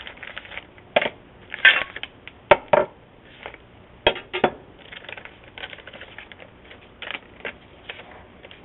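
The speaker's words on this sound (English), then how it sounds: "Start by emptying the contents of the kit bag." Contents of a Miata MX5 trunk lift kit bag being emptied out: scattered close clatters, rustles and knocks of parts and hardware tumbling onto a surface, irregular and sharp.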